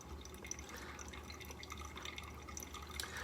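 Faint trickle and drip of Kenya Gatumbi coffee filtering through a V60 pour-over cone after the first pour, soft irregular liquid patter over a low steady hum.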